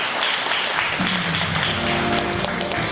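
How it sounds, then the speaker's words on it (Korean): A conference audience gives sustained, dense applause for the panelists at the end of a startup policy proposal forum's panel discussion. The clapping is steady and loud, with a faint tonal sound joining partway through. "여러분 패널분들한테 큰 박수 한번 부탁드리겠습니다."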